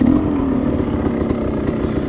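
Close, steady low rumble of a Beta 300 Xtrainer two-stroke dirt bike engine, running at a fairly even pace with light clattering and no talking.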